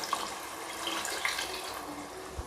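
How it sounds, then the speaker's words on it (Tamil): Water poured into a pot of Chettinad chicken gravy, a soft, steady splashing and trickling that runs through the whole moment at moderate volume, close by, with no talking. "இப்போ இந்த கிரேவிக்கு தேவையான அளவு நம்ம தண்ணியை சேர்த்துக்கலாம்."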